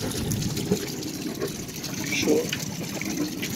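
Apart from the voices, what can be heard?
water draining from boat's shower tank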